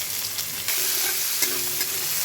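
Chopped capsicum and carrot, with garlic, ginger and a little onion, stir-fry in a pan for mixed fried rice: a steady close sizzle broken by a few quick stirring scrapes.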